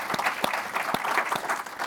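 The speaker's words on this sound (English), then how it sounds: "If you could join me in thanking our panelists today with a warm applause." Warm applause from an audience thanking a panel after a talk on U.S. visas, a short, dense burst of clapping with a few sharper claps standing out.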